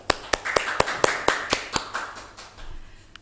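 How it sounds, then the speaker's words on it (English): Audience applause at an academic conference session: crisp, evenly spaced handclaps in a steady quick rhythm over a soft room murmur, gradually weakening and dying away within a few seconds. "Please give a guide a big applause"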